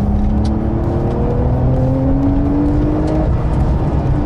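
A Porsche 992 Carrera 4S engine revs hard toward 7200 rpm, its loud, close tone climbing smoothly and continuously in pitch, with no speech over it.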